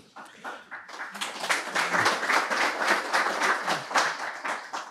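An audience at an organic agriculture forum on São Miguel Island bursts into applause, dense rapid clapping that builds quickly and holds steady and fairly close.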